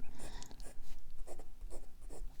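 Fountain pen nib scratching across paper, an Esterbrook Estie with a number 6 size 1.1 stub nib, making soft, close strokes in a quick irregular rhythm.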